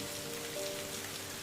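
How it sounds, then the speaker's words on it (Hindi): Heavy rain pours steadily in a rural farm field setting, a dense, continuous hiss of drops hitting surfaces with no voices. "इतनी तेज बारिश हो रही है"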